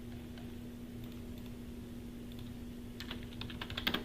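Typing on a computer keyboard, a burst of quick, close key clicks toward the end over a steady low electrical hum, with no talking.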